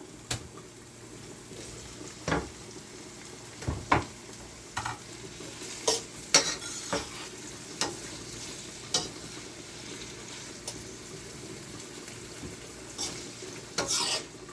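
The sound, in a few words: sweet pepper frying in a pot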